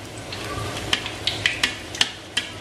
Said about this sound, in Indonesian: Jadi kita coba goreng satu ya. Nih, disiram-siram. Nah, pastikan juga minyaknya itu panas.